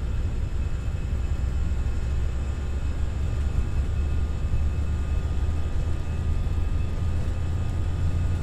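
FSLabs A319 jet engines at takeoff thrust in the Prepar3D flight simulator, a steady, loud, unbroken roar with a low rumble and faint thin tones, heard without talk.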